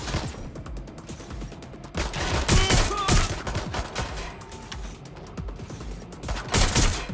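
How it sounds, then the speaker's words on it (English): Rapid bursts of automatic gunfire crackle in a Watch Dogs: Legion firefight, loud and dense, with rattling volleys rising and falling and mechanical clatter, and no clear speech over them. "Suspect is shooting! Get behind cover!"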